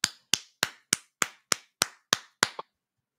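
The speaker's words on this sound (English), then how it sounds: "Now, clap your hands and celebrate." Nine sharp, evenly spaced hand claps ring out one by one in a steady rhythm, each crisp and close with a short decay, followed by a softer tenth clap and then silence.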